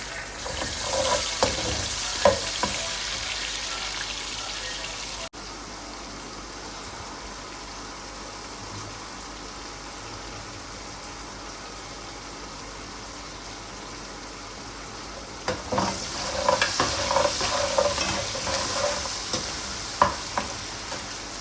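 Chopped onion frying and being stirred in a pan for an arvi aloo masala, a loud sizzle with scraping stirs at the start, a quieter steady hiss in the middle, then renewed sizzling and clinking stirs.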